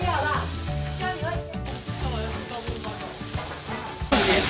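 Greek-style chicken breasts sizzle steadily in a hot pan during a cooking lesson, with crackling and spitting oil close by while people talk over it.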